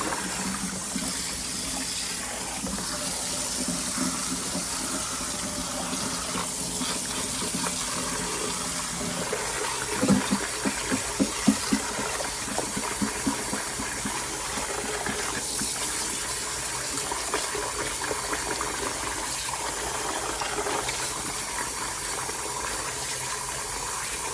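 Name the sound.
rinsing a knitted toy in water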